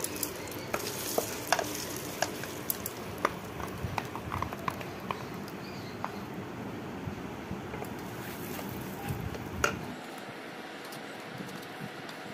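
Mung dal paste added to a hot pan for kochuri filling, then stirred and fried, giving steady sizzling with soft repeated scrapes and taps of the spoon, close and fairly quiet.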